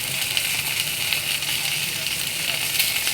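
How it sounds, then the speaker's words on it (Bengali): Fish heads frying in hot oil for a fish curry, giving a steady, dense sizzle at constant level throughout with no voice over it. "মাছের মাথাগুলো আমি ভেজে নিচ্ছি"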